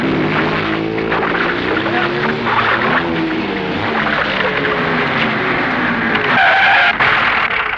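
Car tyres skidding hard across a road as the vehicle swerves to block the way, a loud continuous screech and engine roar lasting several seconds and ending in a harsher scraping burst.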